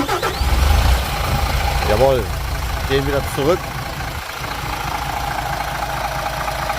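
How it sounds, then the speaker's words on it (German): MAN A21 city bus diesel engine cranking and catching, then settling into a steady low idle rumble; someone speaks briefly over the start. "So hört sich der Motor hier an"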